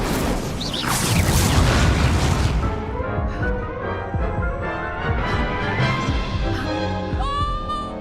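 Incendio fire spell cast in the video game Hogwarts Legacy: a loud, dense whooshing burst over the first few seconds, easing into ringing magical tones and a rising chime near the end, with no talking.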